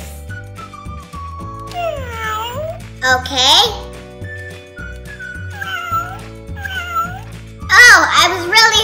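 Several drawn-out cat meows rise and fall over steady background music, with a brief spoken word near the start.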